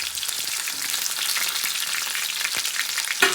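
Onion pieces and a sprig of curry leaves fry in hot oil for a ridge gourd and egg curry, a dense, continuous close sizzle with occasional crackles and a sharp clink near the end, no voices.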